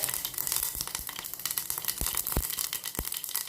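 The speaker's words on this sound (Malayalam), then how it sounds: "ഇതാ ഞാൻ അടുപ്പത്ത് ചട്ടി വെച്ചിരിക്കുന്നത് ഒരു കടുക് വെച്ച് കൊടുത്തിട്ടുണ്ട്" Mustard seeds crackling in hot oil in a pan on the stove, a faint continuous sizzle scattered with sharp, irregular pops.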